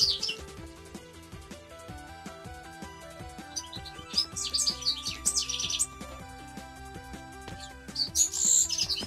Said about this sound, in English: The bird is so loud.